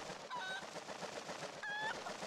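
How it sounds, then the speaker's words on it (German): A game fowl in The Legend of Zelda: Twilight Princess HD gives two short honking squawks about a second apart, clear over a busy ambient game soundscape. "Das ist auf jeden Fall ein Huhn."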